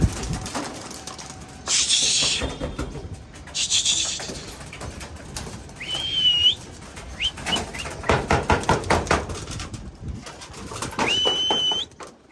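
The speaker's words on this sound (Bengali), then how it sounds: "কবুতরগুলো বের করা হয়েছে এখন মাসাল্লাহ যে ওরা উঠবে" Pigeons released on a rooftop for training in extreme heat coo in low repeated phrases amid wing flutters and scattered chirps, with intermittent bird calls close by.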